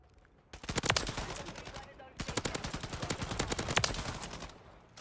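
Rapid LMG bursts in a Call of Duty match: two long stretches of fast, crackling automatic fire, close and loud, separated by a short pause.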